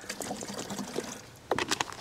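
Water poured into a herbicide sprayer tank to rinse it, a steady close splashing and trickling that swells into louder gushes near the end, with no talking.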